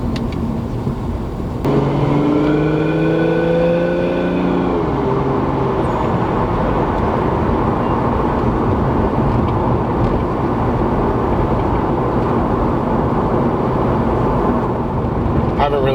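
Turbocharged Lexus IS300 fitted with a CX Racing turbo kit pulling from inside the car: a steady low engine drone with a rising whine that climbs briefly early on, then a constant loud cabin hum.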